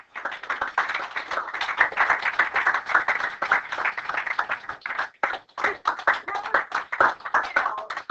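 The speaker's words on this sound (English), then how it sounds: "When they walk in, start clapping for them," Students in a college algebra classroom clap as guests walk in, a close, uneven patter of individual hand claps with a brief gap midway before the clapping resumes.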